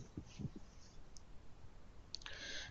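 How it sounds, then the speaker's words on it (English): A computer mouse clicks once or twice on a Run Report icon in MicroStrategy software, small crisp taps near the start over a faint hiss, with a brief clatter toward the end. "So click on that icon."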